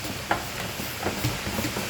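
Pandan custard being stirred in a pot, a steady soft scraping and bubbling texture close by with a faint sizzling hiss throughout and no talk.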